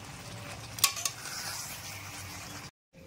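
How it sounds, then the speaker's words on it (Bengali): Chicken sautéing with spices in a pan, with a low steady sizzle and two sharp metallic clinks of utensil against the pan near the middle, ending in a sudden cutoff. "ভালো করে মশলাটার সাথে চিকেনটাকে একটু কষিয়ে নিতে হবে।"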